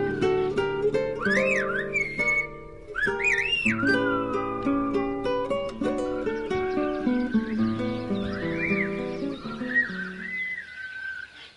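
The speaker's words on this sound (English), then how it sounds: "Some people use whistling as part of their everyday lives." Loud, shrill whistling used to call to neighbours, with rapid rising and falling melodic phrases and slides repeating in quick succession, heard up close without talk.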